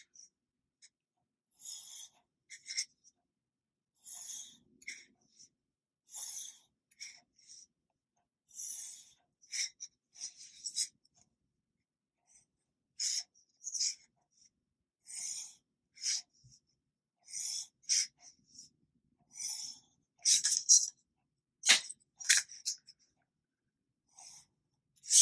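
A pencil drawing lines on paper along a ruler, a series of short, soft scratchy strokes in irregular bursts with quiet pauses between, close up.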